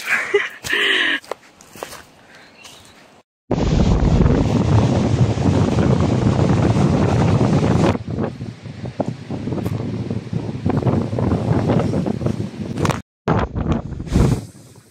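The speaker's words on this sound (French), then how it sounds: "Il y a du vent" Wind gusts across seaside grass on the coast of Saint-Philippe, Réunion, a steady broadband roar buffeting the microphone for most of the stretch, dropping out briefly before returning.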